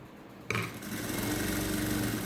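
Sewing machine running steadily while stitching a straight seam on a cigarette-style pant pocket, quiet at first then starting abruptly and continuing as a close, even motor whir with no talk.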